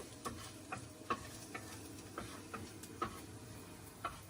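Chopped garlic fries quietly in a pan, with a low sizzle under a run of sharp, evenly spaced clicks from stirring, close by and with no talking.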